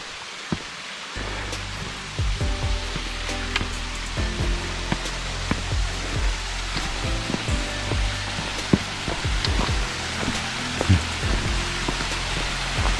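Jeolgu waterfall at Juwangsan roars as a steady, broad rush of falling water, loud and close throughout, with scattered small knocks and taps over the constant wash.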